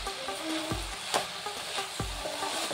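Rice being stirred and fried with masala for a simple veg pulao, with a steady near sizzle broken by three dull scraping stirs of the spoon through the pan.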